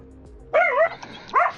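A dog barks twice nearby, one sharp yelping bark and then a second shorter one after a brief pause, against a quiet background.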